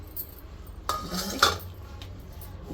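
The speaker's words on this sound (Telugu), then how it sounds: "దీంట్లోనే కొంచెం సాల్ట్ దీన్ని దంచుకుందాం" Fried green chilies and salt are pounded in a stone mortar for gongura roti pachadi. Two distinct, close pounding thuds with faint clinks sound over quiet background, and no one speaks.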